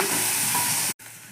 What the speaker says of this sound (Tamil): வெங்காயம், பூண்டு, பச்சை மிளகாய் எல்லாத்தையும் போட்டு நல்லா வதக்கிக்கலாம்.